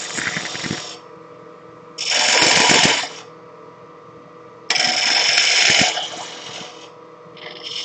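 A wood lathe spins at about 1300 RPM under a steady hum while bursts of harsh cutting noise come and go as the tool bites the workpiece, close and fairly loud.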